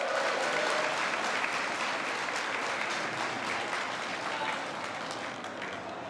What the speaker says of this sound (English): if I could also have a huge round of applause for our workers today